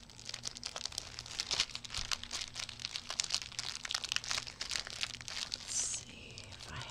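Crinkly plastic cross-stitch kit packaging being handled and pulled open up close, a steady run of crackles and rustles with no talking.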